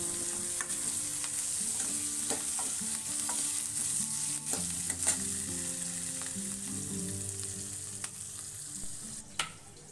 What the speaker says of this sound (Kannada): ಅಲ್ಲಿವರೆಗೂ ಕೂಡ ಚೆನ್ನಾಗಿ ಫ್ರೈ ಮಾಡ್ಕೊಳ್ಳಿ.